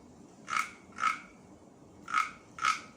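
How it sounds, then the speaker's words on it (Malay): Frog croaks sound four times in two pairs, each a short raspy burst, moderately close over a faint hissing background with no voices. "Kita katalah bunyi katak."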